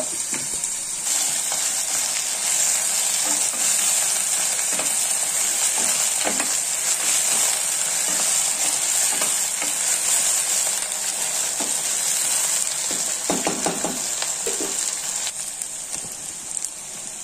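Brinjal pieces fry in a pan with a loud, steady sizzle that runs unbroken throughout, broken now and then by soft stirring scrapes.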